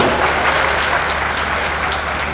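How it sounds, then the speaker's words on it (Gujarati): Audience applause for saints at a temple festival assembly in Bapunagar fills the whole moment, dense and steady clapping from many hands at fairly close range. "તમામ સંતોને એકવાર તાળીઓના નાદથી આપણે વધાવીશું"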